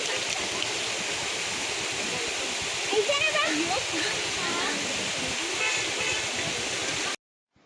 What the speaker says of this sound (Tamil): ஒரு குட்டி ஃபால்ஸ் தான்